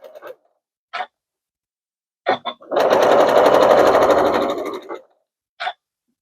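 Sewing machine stitching a square-in-a-square quilt block in one steady run of about two seconds, close and fairly loud, set between a few short clicks and handling sounds.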